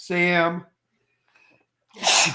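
A single sharp, close sneeze bursts out at the end of a brief spoken word and a short pause during a live stream.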